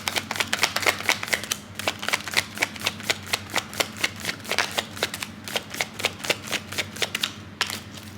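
Tarot cards being shuffled by hand, a rapid run of crisp, close papery clicks and riffles in an uneven rhythm that continues steadily with no talking.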